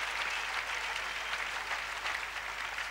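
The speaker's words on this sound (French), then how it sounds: "Ceux qui ont des mains, vous pouvez les acclamer." A church congregation applauds at a revival service, a full, sustained wash of many hands clapping together, steady and fairly close, with no voices standing out above it.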